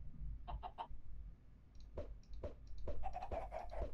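Chickens in the Minecraft video game cluck in short, repeated bursts, several calls spread across the span and growing busier toward the end over a low background rumble.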